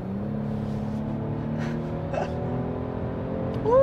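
A Genesis G90 with a 3.5-liter twin-turbo V6 pulls away under acceleration, a smooth engine hum rising in pitch heard from inside the cabin, with brief faint voice sounds over it.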